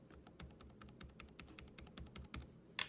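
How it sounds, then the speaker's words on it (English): Keys on a laptop keyboard being pressed back into place after a sticky-key fix, a quick series of crisp plastic clicks up close that ends in one louder clack. "you simply just press the key back down"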